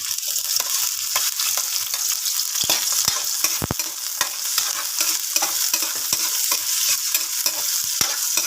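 Garlic and ginger fry in a pan for a kangkong lunch dish, a steady hiss overlaid with frequent spatula scrapes and knocks as they are stirred, close and fairly loud, with no voices.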